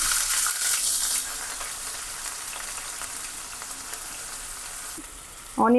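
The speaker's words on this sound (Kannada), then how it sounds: "ಎಣ್ಣೆ ಚೆನ್ನಾಗಿ ಕಾದಿದೆ. ಜೀರಿಗೆ, ಚಿಕ್ಕದಾಗಿ ಕಟ್ ಮಾಡ್ಕೊಂಡಿರೋಂಥ ಆನಿಯನ್" Cumin seeds and finely chopped onion sizzle steadily in hot oil for paneer bhurji, a dense hiss that eases slightly midway, with a louder burst and a brief voice-like sound at the very end.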